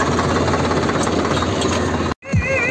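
A Preet 6049 tractor works a field sowing maize, its engine giving a steady, rapid chugging rattle close by for over two seconds before cutting out abruptly, followed by a brief bump.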